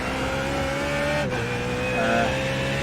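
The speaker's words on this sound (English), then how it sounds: "Ready to take you around a lap of the Nordschleife in our BMW Z4 GT3 car on iRacing.com simulation" A BMW Z4 GT3 race car on the Nordschleife in iRacing sends out a loud, steady engine drone, holding a high note with a brief dip and then pulling again.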